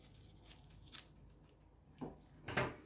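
Cling film being cut for a caramel whipped ganache, heard as a few quiet crinkles and then a sharper rustling tear near the end, close and without talk.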